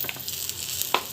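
Food sautéing in a pan with dates and ghee, giving a steady, soft sizzle with a few brief stirring scrapes over a short stretch, no voices.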